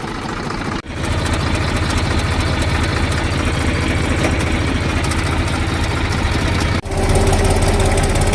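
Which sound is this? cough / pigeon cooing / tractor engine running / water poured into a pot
tractor engine running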